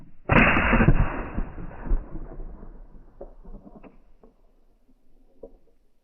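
A single loud 12 gauge shotgun blast fired with Remington Gun Club target loads at a flash target, a sharp close boom followed by a long rolling echo that fades over several seconds outdoors.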